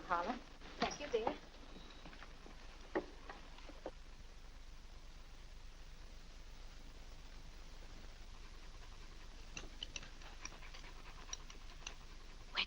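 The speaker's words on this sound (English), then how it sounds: "Where did that dog come from?" In a 1947 family film scene, a dog pants softly in a quiet room, the faint steady breathing sitting under background hiss after a few brief voices at the start.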